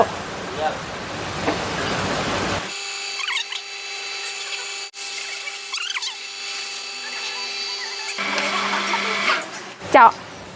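A power drill bores a hole in a fuel tank cap, its high whine running in steady stretches between pauses, with people talking around it.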